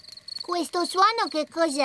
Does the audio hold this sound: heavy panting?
no